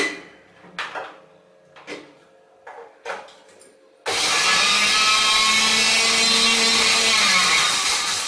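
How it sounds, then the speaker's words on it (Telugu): A kitchen mixer grinder grinds fried red chillies. A few short knocks and rattles come first, then the motor starts abruptly into a loud, steady, close whirring roar that runs to the end. "ఇవి ఒకసారి మిక్సీ చేద్దాం."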